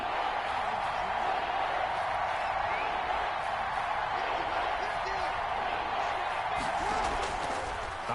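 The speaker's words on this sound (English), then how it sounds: "the crowd getting into it as we come up on a big 3rd down" Stadium crowd at a Baltimore football game roars steadily ahead of a big third down, a dense, sustained wash of cheering and noise filling the whole span at even loudness.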